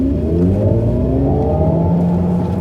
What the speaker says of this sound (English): Hopefully you'll be able to hear that on the microphone, through the microphone, all the sound effects of the car.